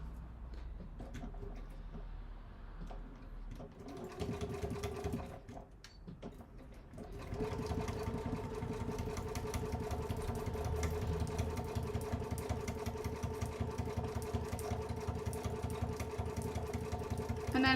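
Domestic sewing machine running a steady fast reverse stitch along a bag gusset, a continuous close motor whir with rapid needle ticking that settles into an even drone after a brief pause.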